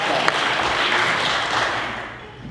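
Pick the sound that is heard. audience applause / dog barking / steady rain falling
audience applause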